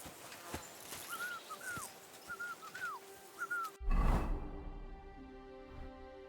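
A character in Kingdom Come: Deliverance II whistles a short, wavering tune in bright, brief phrases over a quiet game ambience. It is cut off by a sudden louder burst and a low sustained tone.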